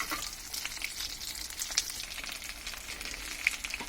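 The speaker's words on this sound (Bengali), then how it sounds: "যেহেতু ভাজতে গেলে ডিমের জন্য বাবলস বের হয়" Egg-battered aloo chops fry in hot oil with a dense, continuous crackle and bubbling, fairly soft and close, with a few sharper pops and no voices.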